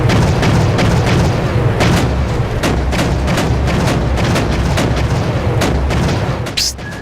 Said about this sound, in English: we're taking fire here